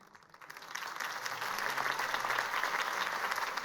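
Crowd applause swelling after a political campaign speech in Batman: The Telltale Series, starting faint and building within the first second into steady, dense clapping from a large audience that carries on evenly to the end.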